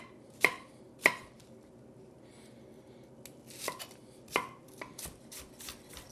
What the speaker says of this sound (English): what you want to do is you just kind of want to chop that roughly